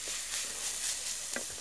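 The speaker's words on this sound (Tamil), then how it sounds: "நல்லா எண்ணெயிலே இதெல்லாம் ஃப்ரை ஆகட்டும்" Chopped vegetables sizzling in hot oil in a pan on the stove for a bread sandwich, a steady close hiss with a couple of brief stirring scrapes, no talk.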